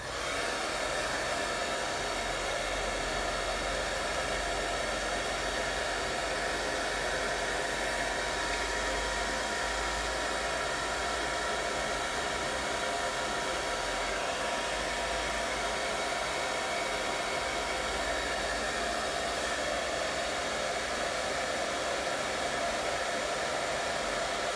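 A hair dryer runs steadily at close range for the whole stretch, a constant broad whooshing hum used to dry a watercolour cat painting, with no pauses or talk.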